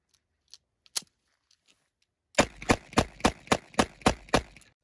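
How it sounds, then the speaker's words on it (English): A revolver cylinder rotated and loaded with rounds using a speed loader: a few faint scattered clicks, then a fast run of about nine sharp, loud metallic ratcheting clicks in even rhythm, close up, no talk. "Rotate the cylinder, put in a round."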